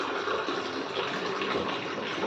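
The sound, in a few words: water poured into curry pot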